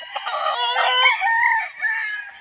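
A Kelso gamefowl rooster crows in one long, loud call with a broken, wavering tone, close to the microphone at a gamefarm in Tanay, Rizal. No one speaks over it.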